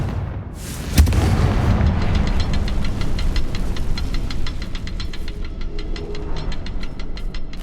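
A Confringo fire spell blasts off in the game Hogwarts Legacy, a sharp boom followed by a long rumbling roar with crackling bursts and rapid tapping debris that slowly thins out.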